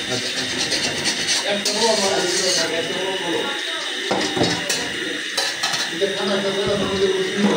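Potatoes frying and being stirred in a pan at home, a continuous sizzle with metallic utensil clatter and scraping, while a person talks over it.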